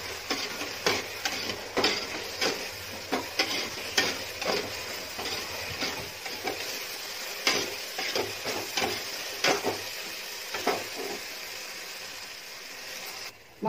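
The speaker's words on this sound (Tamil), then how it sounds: "நம்ம அரைச்சு வச்சிருக்கிற மசாலா சேர்த்துக்கலாம். நல்ல பச்சை வாசனை போற வரைக்கும் வதக்கிக்கணும்." Ground masala paste for mutton biryani sautés in a pan, with a crackling sizzle beneath repeated rhythmic scrapes and taps of a spoon stirring against the pan.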